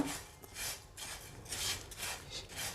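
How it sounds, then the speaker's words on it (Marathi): Cumin and caraway seeds dry-roasting in a pan over a low flame give a soft, uneven scraping and rustling as they are stirred, faint and with no talk. "हे आपण जिरं आणि शहा जिरं हे आता व्यवस्थित भाजून घेऊया"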